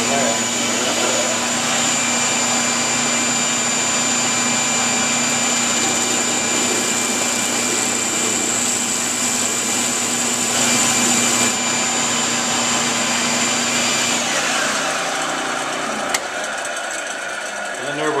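A disc sander smoothing a segmented wooden vase, heard as a loud, steady motor whine with a constant hum, running close for about fifteen seconds before it spins down.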